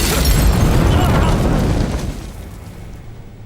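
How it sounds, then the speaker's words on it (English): A staged special-effects blast from the desert tortoise scene in Breaking Bad: a loud, broad boom that bursts at once and then slowly rumbles and fades away. "A drug runner's severed head on a desert tortoise, and then boom."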